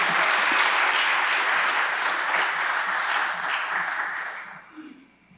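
A book festival audience on Nantucket claps to welcome author Jessie Greengrass, with a full, steady burst of applause that holds for several seconds before tapering off quickly at the end.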